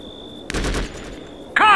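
Short burst of automatic weapon fire in the PC tactical shooter Conflict: Global Storm, a loud close rattle lasting about a third of a second, followed by a brief sharp electronic-sounding blip.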